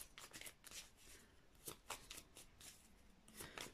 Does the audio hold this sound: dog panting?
no